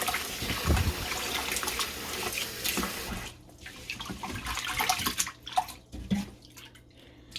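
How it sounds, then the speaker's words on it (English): Rice being washed by hand with warm water in a bowl: close sloshing, swishing and trickling of water, busy at first, then quieter with scattered splashes and drips. "I'm washing this rice with warm water"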